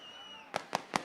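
Three sharp firecracker bursts at the Karaga festival, evenly spaced about a fifth of a second apart, loud and close over a steady crowd hum.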